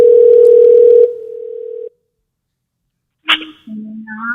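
A telephone dial tone hums loud and steady for about two seconds while a call is being placed, then cuts out; after a pause, a sharp click and a lower tone follow.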